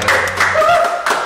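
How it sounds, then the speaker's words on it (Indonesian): An audience claps briefly in a podcast studio, with a short burst of hand claps under a tonal, voice-like sound. "Tepuk tangan sekali lagi dong."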